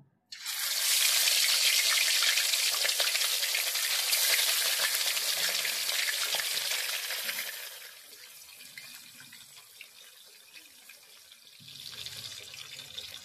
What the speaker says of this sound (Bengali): এবার মাছগুলোকে একে একে ছেড়ে দিচ্ছি ভালো করে ভাজবার জন্য।